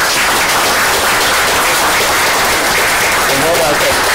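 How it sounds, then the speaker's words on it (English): A room of people at a work session claps in a loud, dense wash of applause that runs throughout, with voices mixed in beneath the clapping. "just want to just give you a round of applause for that"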